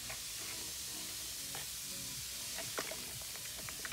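An L.O.L. Surprise Pearl shell toy fizzes as it dissolves in water, making a steady, rain-like hiss with scattered tiny crackles close up and no talking.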